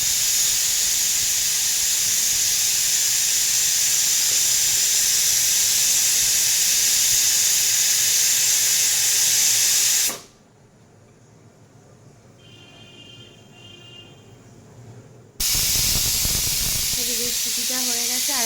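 A pressure cooker whistle releasing steam in a home kitchen, a loud sustained hiss that cuts off abruptly, leaving a quieter gap with faint tones, then the steam hiss bursts back.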